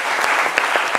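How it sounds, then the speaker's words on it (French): Studio audience applause on a midday TV show, a steady dense wash of clapping at moderate level with a few sharper claps standing out. "Et ça s'applaudit"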